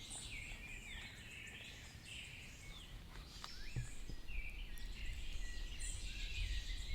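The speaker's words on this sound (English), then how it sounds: "Lots of birds." Faint outdoor ambience of birds calling and chirping high over a soft background hum of insects, with bird notes scattered across a quiet rural roadside scene, distant and low in level.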